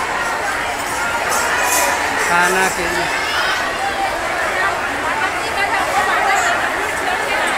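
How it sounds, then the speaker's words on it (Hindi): A large crowd gathers at night at a Kawad Shiv Mahapuran Katha in Tilda Newra, with steady dense murmur and babble, people talking close by throughout. "अचानक रात में इतना भीड़ क्यों है"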